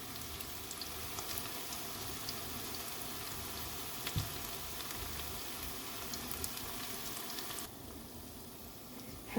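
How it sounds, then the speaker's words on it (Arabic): Black pepper and rib meat fry together in a pan, a soft, steady sizzle with faint crackles throughout, quieter toward the end, with no voices. "وهذا فلفل اسود ونعوفه ينحمس، يعني يذبل يعني تقريبا بدأ انحمس"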